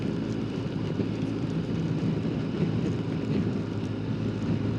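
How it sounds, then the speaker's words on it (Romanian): Strong wind roaring over a motorcycle rider in cold rain at 5 degrees, a constant low buffeting rumble at close range with no pauses and no voices. "Vântul bate infernal de tare, 5 grade și plouă."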